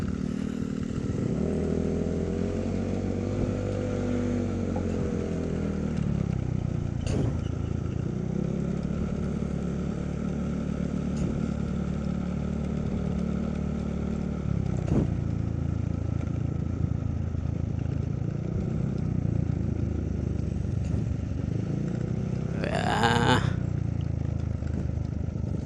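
Several scooters and motorcycles, one of them a 200cc big bike, ride nearby with a steady engine drone and shifting pitch as they pass and change speed, while people talk over the noise.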